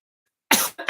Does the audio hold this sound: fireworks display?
no